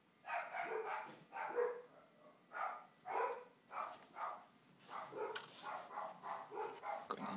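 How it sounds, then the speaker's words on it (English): Several pet dogs bark at someone coming to the front door of a home, a run of repeated barks at a fairly even rhythm, close and moderately loud, with no speech. "my dogs are very annoying"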